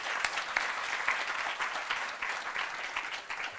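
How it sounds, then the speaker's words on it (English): An audience at a university debating championship in Kampala applauds steadily, many hands clapping in a dense, continuous patter with a few sharper claps standing out. "Can we give them a hand clap?"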